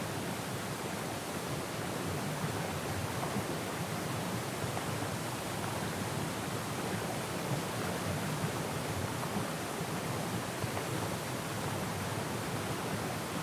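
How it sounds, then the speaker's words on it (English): A very large waterfall in Syberia: The World Before roars as a dense, even wash of noise that holds steady throughout, close and fairly loud, with no voices over it. "Yes, very large waterfall."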